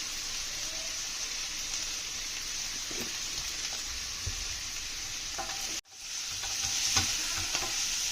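A pan of mixed leafy greens with turmeric and salt fries with a steady close sizzle while being stirred, with soft scrapes and a brief dip midway before the sizzling resumes louder.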